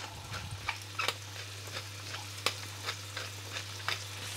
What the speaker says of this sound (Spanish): Ahora las vamos a saltear con una pizca de sal y un poco de pimienta.